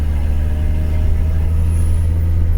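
Trucks rumbling along a road heard from inside a moving car, a steady, loud low drone of engines and traffic noise with no talking.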